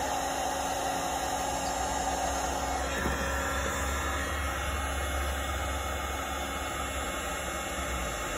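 A heat gun blows steadily to shrink heat shrink tubing onto an LMR240 coax cable with an SMA connector, making a loud, constant whooshing hiss with a low hum beneath it and no talking.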